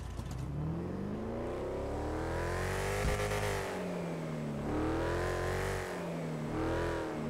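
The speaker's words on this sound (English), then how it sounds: "Let me rev her up right quick." A drag car engine in GTA 5 revs repeatedly, its pitch climbing and falling in several loud swells of throttle, close and alone with no speech.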